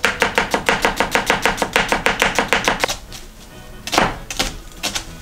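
A knife slices onions on a cutting board in a quick, even run of crisp chops, about five per second, then pauses before a few slower, separate cuts, close up and alone.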